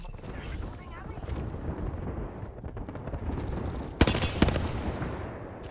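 Gunfire in the video game Apex Legends, a rapid crackle of distant shots under wind-like noise and voice, with two sharp, louder close bursts near the end.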